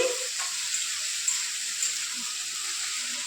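Tomatoes frying in a pan while making Bengali ghugni with dried peas: a steady, close oil sizzle and hiss runs throughout with faint stirring, and no one speaks.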